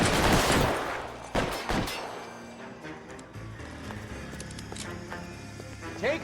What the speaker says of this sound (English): this is a firefight now